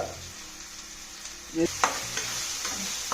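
Soaked country chicken (natu kodi) goes into a hot pan with a ground paste of ginger, garlic, cumin, coriander, poppy seeds, cashew and coconut, giving a steady close sizzle with a few soft stirring scrapes and bumps.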